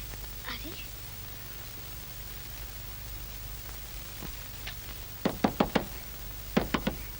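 Knuckles rap on a wooden door in two short bursts of four and three knocks, near and sharp over a steady hum, after some faint speech.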